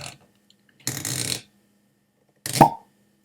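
A composite cork of sawdust and glue being worked out of a whisky bottle: two short close scraping, squeaky bursts separated by silence, the second ending in a brief pop.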